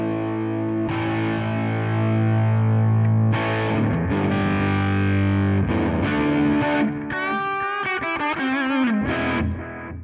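Electric guitar played through a Hotone Ampero amp modeler with the reverb mix turned all the way up gives distorted, heavily washed sustained chords and then quicker bent single notes, loud and steady throughout with no talking.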